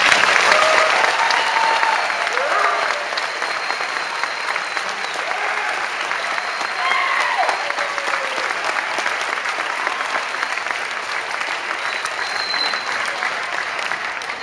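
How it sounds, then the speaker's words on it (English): A large audience at a police academy graduation ceremony claps loudly and steadily, a dense continuous applause that lasts the whole stretch without fading. "Let's give them all a big round of applause."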